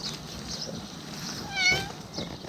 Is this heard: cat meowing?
yes